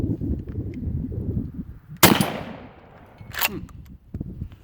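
A single sharp, loud blast from a used Mossberg Nova 12-gauge pump shotgun with a full choke, heard close up, with a second crack about a second and a half later and outdoor background noise.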